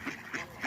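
Ducks out in the countryside let out three nasal quacks in quick succession, moderately close and fairly loud, with no talking.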